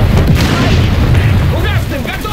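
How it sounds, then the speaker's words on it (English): A tank ammunition cook-off explosion from the War Thunder video game hits as a loud, deep boom with a rumbling tail, and a voice starts talking over it near the end. "the ammo cook-off explosions in War Thunder"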